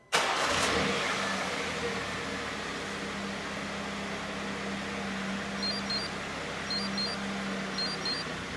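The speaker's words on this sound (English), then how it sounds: "to start the vehicle, press and hold the start button for 3 seconds" A BMW X1 F48 engine starting by plug-in remote start, catching at once and settling into a steady, moderately loud idle with a low hum, close by and with no talk.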